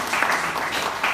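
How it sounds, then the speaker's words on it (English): Audience applause at a British African Business Alliance gathering, a dense steady patter of many clapping hands filling the room, fairly close and continuous with no voices on top. "A round of applause for him."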